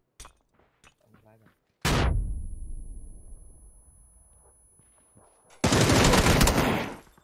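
Two loud bursts of video game gunfire, the first a sharp shot decaying into a long tail, the second a dense rapid volley near the end, with faint voices murmuring beforehand.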